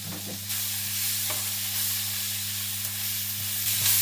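Mushrooms sweat in olive oil in a pan, a steady, moderately loud frying sizzle over a low constant hum, with a few faint clinks and no talk.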